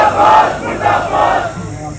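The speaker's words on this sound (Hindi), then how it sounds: "मुर्दाबाद के नारे लगाते हुए भी नजर आ रहे हैं" Thousands of thermal power plant workers at a protest sit-in chant 'murdabad' slogans, a large crowd shouting in three rhythmic, loud surges of massed voices.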